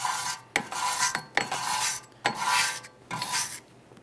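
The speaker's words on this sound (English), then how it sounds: "I'm going to use a wire brush for this." A wire brush scrubs the rear brake backing plate of a 2009-2014 Nissan Maxima in bursts of rasping strokes, loud and close with short pauses between passes.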